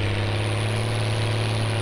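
Tractor engine of a Swaraj 855 in Farming Simulator 19, a steady low droning hum with a constant pitch, loud and continuous for the whole short stretch with no voices.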